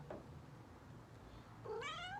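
A single cat meow rises and falls near the end, preceded by a brief faint chirp over quiet background.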